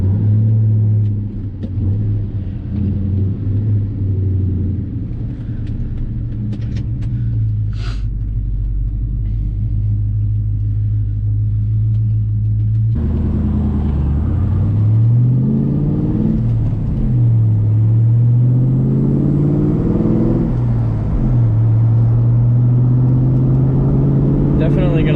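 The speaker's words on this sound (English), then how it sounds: "Definitely gonna let the car warm up a bit before we get too high in the revs" A Ford Mustang's engine idles while warming up after a jump start, a steady low rumble that shifts pitch partway through as the revs rise and settle.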